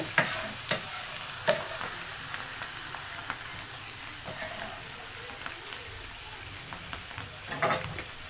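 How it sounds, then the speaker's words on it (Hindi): Steady, loud sizzling and crackling as garlic, ginger, green chilies and spices temper in hot oil for sarson ka saag, with occasional sharp pops and stirring clicks throughout. "तो अब मैं तड़का लगाती हूँ।"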